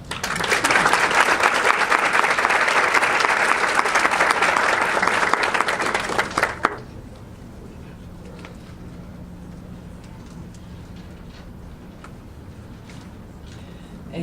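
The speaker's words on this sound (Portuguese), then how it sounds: "a quem peço aplausos antecipados" Loud, dense applause from a seminar audience greets the incoming coordinator, sustained for about six and a half seconds before cutting off abruptly into a quiet room with faint murmurs.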